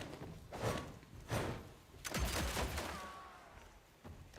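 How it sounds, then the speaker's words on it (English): Gunshots from the video game Evil West, a few broadband blasts spread over a few seconds with a heavier, booming burst in the middle, fairly close and sitting over a game soundscape with no talking. "I think the gun sounds are quite good."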